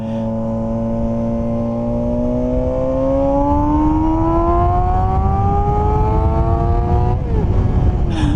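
A Suzuki GSX250F Across motorcycle engine heard while riding, a loud, steady whine climbing smoothly in pitch as it accelerates through a gear, then a brief dip near the end, with no talking.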